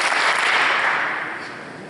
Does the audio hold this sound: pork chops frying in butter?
no